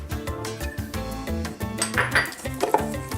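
Cinnamon roll icing being mixed in a bowl after salt and vanilla extract go in: steady clinking and scraping of a utensil against the bowl, with music playing underneath.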